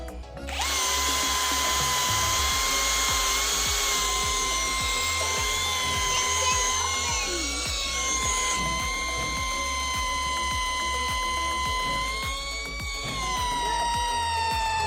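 A DeWalt DCD796 cordless drill bores into wood, its motor whine loud and close and holding steady for about fourteen seconds, with slight pitch dips as the bit bites, and no talking.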